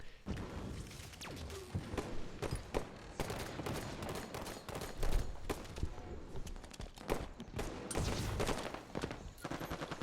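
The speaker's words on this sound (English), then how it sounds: "So you hear shots coming from pink 1" Rapid bursts of video game gunfire crackle through a round of an online shooter, dense volleys and heavy thumps stacking up close and loud over roughly ten seconds with little pause.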